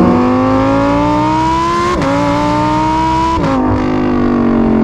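Lamborghini Huracan STO fitted with a Novitec exhaust revving, a loud, close, sustained engine roar whose pitch climbs steadily, broken by two brief dips before rising again.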